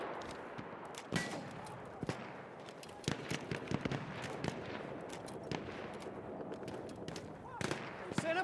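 Machine gun fire in the video game Battlefield 1, with sharp bursts and scattered shots cracking over a battlefield din, some near and loud, others further off.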